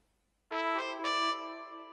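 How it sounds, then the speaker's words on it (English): Synthesized trumpets in an FL Studio Afrobeat remake of a song blare a bright sustained brass phrase after a short silence, with a second accent partway through. "we have these trumpets"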